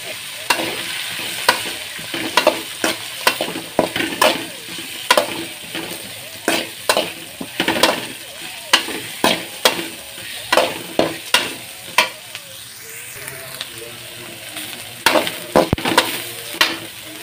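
Grated coconut stirred in a hot frying pan, a steady sizzle under repeated sharp scraping strokes of a spatula against the metal pan, close and loud, with no talking.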